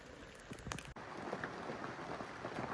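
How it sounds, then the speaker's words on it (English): Rain pattering steadily on a Lotus Belle canvas tent, heard from inside as a dense, even hiss with scattered drops, after a brief clatter at the start. "Be a pretty nice way to have a good night's sleep in here with the rain coming down."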